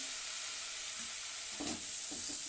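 Spice paste of ginger, tomato and onion fries with bay leaf and cumin in a pan, a soft, even sizzle at moderate distance with a couple of faint stirring scrapes near the end.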